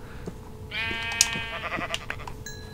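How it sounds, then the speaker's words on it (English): A single drawn-out sheep bleat from a video game wavers for about a second amid soft clicks and a steady electronic hum, with no one speaking. "Sheep, come here."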